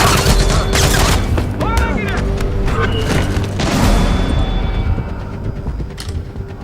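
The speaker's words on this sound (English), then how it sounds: "Gunfire! Shots came from over there!" Rapid bursts of gunfire and booming blasts crackle in a loud, chaotic exchange in the video game Splinter Cell Blacklist, with sharp electronic whines and effects layered over the shooting.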